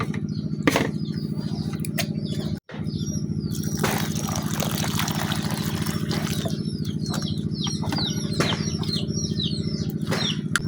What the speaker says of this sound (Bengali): এখন আলুগুলো আমি পরিষ্কার করে ধুয়ে নিলাম